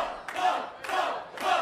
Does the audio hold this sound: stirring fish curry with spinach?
no